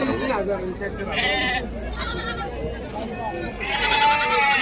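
Sheep and lambs bleating at a livestock market in Kashti, several wavering bleats from nearby animals mixed with people talking in the background.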